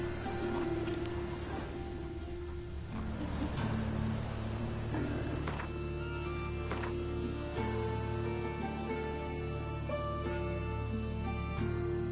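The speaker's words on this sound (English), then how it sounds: "Raining again" Rain falls steadily in The Witcher III: Wild Hunt, played on PS5, a continuous hiss under a low droning game score, with a horse's hooves clopping along beneath it.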